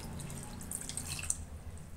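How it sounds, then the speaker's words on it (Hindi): Cold water is poured into a bowl of scalded tomatoes for peeling, making soft trickling and splashing with scattered bright drips over a low background hum, faint and close. "अब इसमें थोड़ा सा ठंडा पानी हम डालेंगे ताकि हम"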